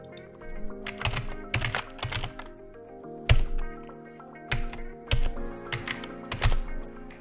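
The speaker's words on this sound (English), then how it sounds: "we're going to open up VNC Viewer and type it in" An IP address typed on a computer keyboard into a remote desktop viewer while setting up a Raspberry Pi robot, clusters of crisp, close keystrokes in uneven bursts with brief pauses between them, no voices.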